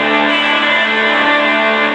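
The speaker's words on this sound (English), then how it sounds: "that's a little bit of distortion. It's not fully cranked, but it gives me one option." An electric guitar plays through an amplifier with moderate distortion, not fully cranked, giving a dense sustained tone for two seconds with no talk.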